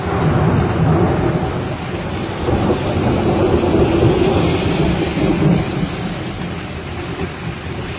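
Thunderstorm over a house with a new roof and gutters: steady heavy rain hisses throughout while deep rolling thunder rumbles loudly in the foreground, with no voices.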